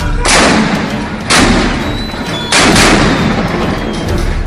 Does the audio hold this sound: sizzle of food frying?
no